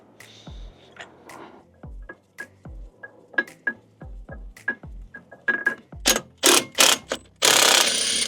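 A Halfords ratchet wrench works a bolt on a Land Rover Discovery 4 engine during teardown, giving close, loud, rapid clicking bursts that start as sparse turns and build to dense, fast ratcheting near the end.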